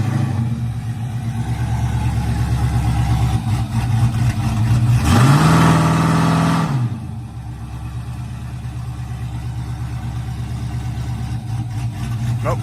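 An LS-swapped Ford F150 truck engine idles with a lumpy rumble, then revs up sharply to a held high-RPM roar against a two-step limiter for a couple of seconds before dropping back to a steady loud idle.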